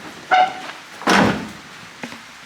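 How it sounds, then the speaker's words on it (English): A door shutting on a 1970 Plymouth Cuda FC7 with a 340 engine and four-speed: one solid, close thud, preceded by a short metallic creak and followed by a faint click. "And let's shut this door."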